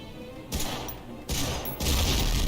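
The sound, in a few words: fuel drums exploding in video game Medal of Honor: Frontline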